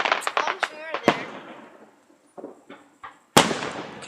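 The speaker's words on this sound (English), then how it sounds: "Oh, under the fireworks." Fireworks burst overhead in a string of sharp cracks and pops, several in quick succession then a pause and a final loud bang, with crackling decay trailing each one.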